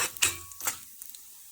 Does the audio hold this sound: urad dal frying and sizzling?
yes